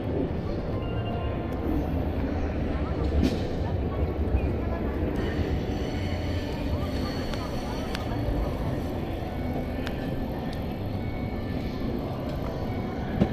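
A Sakura tram line streetcar in Tokyo approaches along a city street, a steady low rumble that builds gradually under continuous street noise, with people talking nearby.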